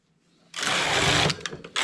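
A knitting machine carriage is pushed across the needle bed while knitting a cuff, a loud rattling whir that holds for under a second, breaks into a few clicks, then starts again.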